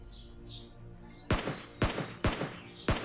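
Four sharp, loud gunshots ring out at a steady pace in a PUBG Mobile Lite battle royale match, each a broadband crack with a short echoing tail, over a quieter ambient bed with faint bird-like chirps before the first shot.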